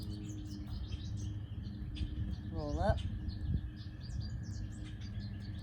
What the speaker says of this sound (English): It was a bird.